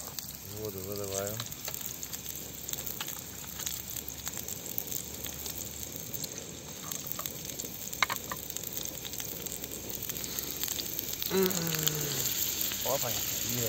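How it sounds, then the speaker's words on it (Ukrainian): Water hisses and sizzles as it hits a hot pan, a loud spitting burst that settles into a steady frying crackle, with brief voices near the start and end. "Воду виливаю."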